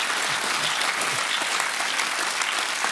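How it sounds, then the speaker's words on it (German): Studio audience at the SRF comedy talk show Late Update applauding guest Moritz Leuenberger: steady, dense clapping that fills the room evenly from start to finish, with no voices over it. "Applaus für den Moritz Leuenberg"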